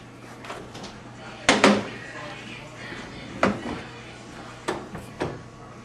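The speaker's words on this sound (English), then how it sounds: "Now test the door again." A door fitted with a freshly adjusted hydraulic door closer swings shut, giving a few distinct knocks and thuds spaced across several seconds, moderately close in a quiet room with no talking.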